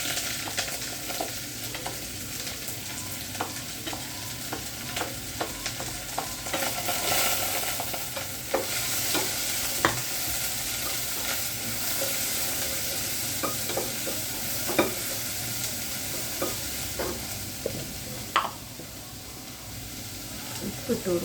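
Onions and green chillies sizzle steadily in a pan while being stirred, with frequent scraping clicks of the spoon over a continuous frying hiss.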